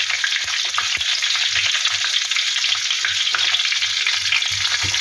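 Lemongrass with ginger and garlic fries hard in hot oil, giving a loud, unbroken sizzle with a few faint stirring scrapes underneath.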